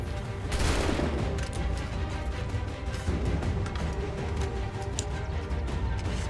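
Rapid, loud bursts of musket and gunfire crackle almost continuously in Assassin's Creed 3, with a sharp blast near the start and dense overlapping shots throughout.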